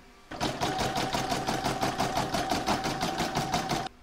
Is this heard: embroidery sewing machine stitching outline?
yes